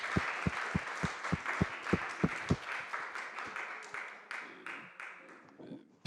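Scattered audience applause at a French community study presentation, sharp distinct claps in a fairly quiet room, strongest at first and thinning out into a few fading claps.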